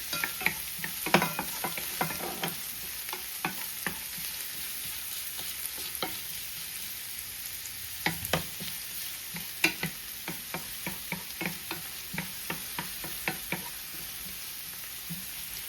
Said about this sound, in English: I'm gonna fry onion a little bit to get a little bit softer.